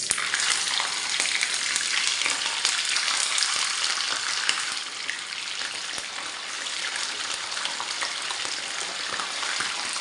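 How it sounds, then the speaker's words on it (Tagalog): Mackerel frying in a pan of hot oil, a loud, dense, continuous sizzle with scattered crackles and pops, easing slightly partway through but steady to the end. "Magsalang na nga po tayo ng pagpiprituan ng ating mackerel"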